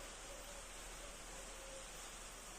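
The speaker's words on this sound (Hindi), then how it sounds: "भाई बहुत तेज वाली बारिश आ गई है, धीरे धीरे करके।" Steady, even hiss of heavy rain falling outdoors, continuous and fairly faint, with no voices.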